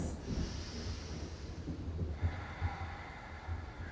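Slow yoga breathing during a full-body flow: a close, faint airy hiss of a long breath, followed by softer rhythmic nasal exhales, with no talking.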